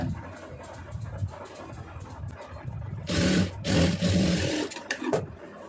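A sewing machine stitches the lining of a blouse, running in short bursts with a louder, faster run of rapid stitching midway, then stopping and starting again.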